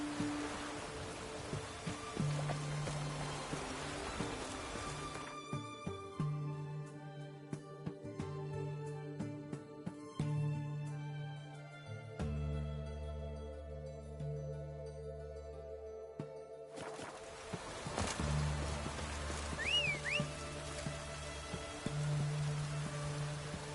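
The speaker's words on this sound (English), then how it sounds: "Witches have conjured rain." Game rain in The Witcher 3: Wild Hunt, a soft steady hiss of falling drops with a few sharp clicks and tonal game sounds layered on top, quiet and continuous throughout with no talk.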